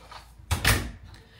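A hotel room door at the Abora Catarina by Lopesan in Gran Canaria swings and thuds shut once, a short close knock with a brief rattle, alone in a quiet room.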